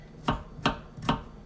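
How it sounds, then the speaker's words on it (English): Knife chopping garlic into small pieces on a cutting board: three crisp, evenly spaced chops, close and fairly quiet, with no talking. "I'm going to cut up some garlic into small pieces."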